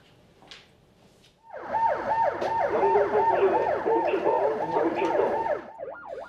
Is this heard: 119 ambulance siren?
yes